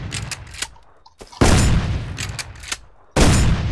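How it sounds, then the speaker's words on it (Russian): Loud shotgun blasts from the video game Rust, two heavy booming shots each followed by a decaying roar, with several sharper lighter gunshots and clicks in between. "Дробовиком можно сносить вот эти штуки."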